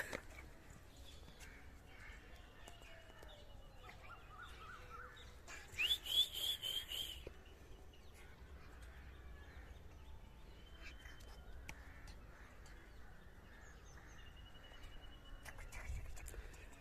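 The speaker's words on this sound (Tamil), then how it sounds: "அந்த மயில் கொடுக்குற சவுண்டு எப்படி இருக்குது" An Indian peacock calls while displaying its fanned tail outdoors: a short, loud, sharp cry bursts out near the middle over a steady, quiet open-air background with faint distant birds.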